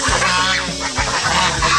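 Chickens, including a hen, squawk and honk loudly and repeatedly at close range as they are handled and picked up in a yard, harsh calls in quick succession.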